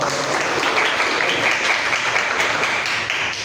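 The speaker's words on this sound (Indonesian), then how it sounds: "Kasih tepuk tangan lah temennya lo." A university classroom audience applauds a classmate with steady, moderately loud clapping throughout, with faint voices underneath.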